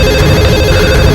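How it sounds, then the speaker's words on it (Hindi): A telephone rings loudly for a brief moment in a police office, its shrill bell tones sitting over a dense, cluttered background. "देखो किसका फोन।"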